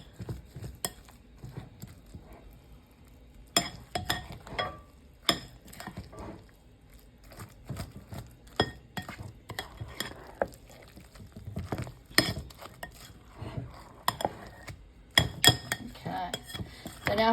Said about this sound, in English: I take and I mix that all together so that the mixture is all mixed into where the potatoes are